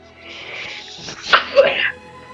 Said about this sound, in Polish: ale kichnięcie.